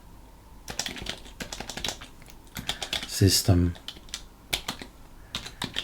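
Keys clack on a computer keyboard in quick irregular bursts, close and crisp, while someone speaks briefly partway through.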